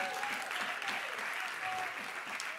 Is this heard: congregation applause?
yes